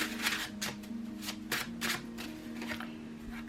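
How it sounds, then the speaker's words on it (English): A deck of tarot cards is shuffled close up in a series of quick crisp riffling bursts over a low steady hum. "A little shuffle here."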